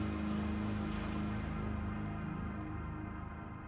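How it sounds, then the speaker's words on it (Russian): Steady rain patters indoors in the video game Daymare: 1994 Sandcastle as a dense, even wash of noise that holds throughout and fades slightly toward the end. "Дождь в помещении."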